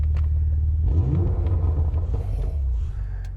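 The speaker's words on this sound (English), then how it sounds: "Oh, that rumble you get from the exhaust." Deep exhaust rumble from a stationary Porsche Macan Turbo Performance Edition idling, with a brief swell of revs in the middle before settling back to a steady, loud, close low burble.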